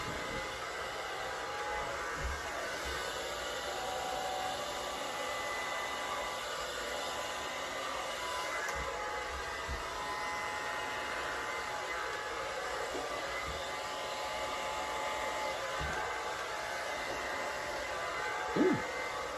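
A hair dryer blows over an acrylic paint pour on a large 24x36 canvas, a steady loud whooshing hum running throughout with faint occasional knocks in the background.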